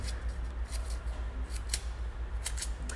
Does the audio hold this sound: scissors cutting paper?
yes